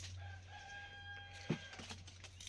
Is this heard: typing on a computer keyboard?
no